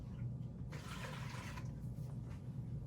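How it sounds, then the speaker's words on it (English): Water is poured from a basin into a toilet in a steady rushing splash that swells for about a second and then trails off into running water. "Now I'm going to discard of my water in the toilet"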